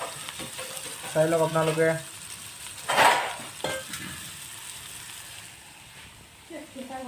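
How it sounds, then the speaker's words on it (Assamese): Small fish fry in a pan while meat cooks for a chicken curry, giving a faint, steady sizzle with one louder burst of spattering. Someone talks over the cooking. "সৰু মাছখিনিও ফ্ৰাই কৰি আছোঁ"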